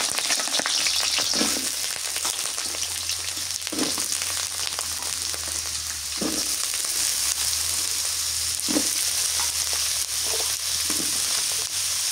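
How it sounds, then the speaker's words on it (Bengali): Potatoes fry in a pan with a pinch of turmeric, giving a steady, close sizzle throughout with occasional louder crackles and stirring scrapes, no talking. "আলু আগে ভাজি করে নেই।"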